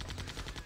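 Rapid gunfire in the Septerra Core video game, several quick evenly spaced shots in a short burst, close and moderately loud.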